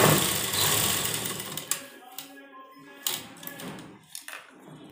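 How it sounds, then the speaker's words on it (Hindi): A sewing machine stitching the shoulder seam of a sleeveless blouse runs in a steady mechanical whir for a couple of seconds, then stops and gives a few short bursts, close by, with a voice speaking in between. "हम अपने दूसरे कंधे पर भी सिलाई लगानी है। और ये हमें डबल सिलाई लगानी है दोनों के ऊपर।"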